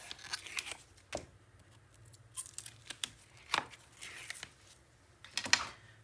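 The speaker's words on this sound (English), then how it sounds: "So I'm going to take this tape off." Sticky tape is peeled off a paper flap on an enclosed folio, giving sharp ripping and crackling bursts at uneven intervals between quiet pauses, close and fairly faint.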